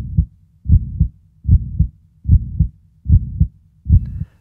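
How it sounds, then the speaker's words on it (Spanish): A human heartbeat thumps in a slow, even lub-dub rhythm, six paired beats close and clear with no other sound. "Piensa en el latido de tu corazón."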